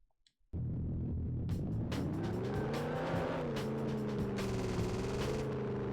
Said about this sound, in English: Oh, that's an awful lot of fishtailing.